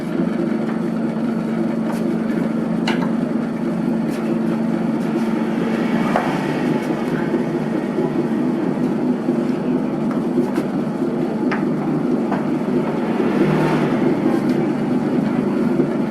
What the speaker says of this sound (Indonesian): Jadi ini kita adon dulu, saya nyalakan mesinnya